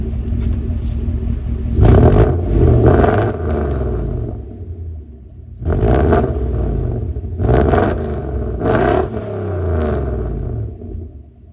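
A 1995 Mercedes S500 W140 with a fuel-pump fault, its engine revved in several distinct bursts that swell and fall back to a rough idle between them, loud and close.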